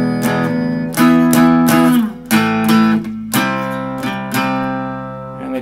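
An electric guitar plays a section of a song up close, with distinct picked strums and chords ringing out in an uneven rhythm and no voices.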